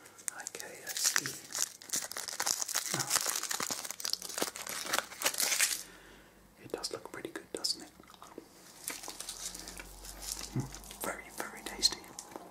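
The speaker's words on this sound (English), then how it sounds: "Can you hear this unwrapping?" Crinkly wrapper being unwrapped up close in a whispered roleplay, bursts of crackling and tearing in the first six seconds, then softer rustles later, with quiet whispering throughout.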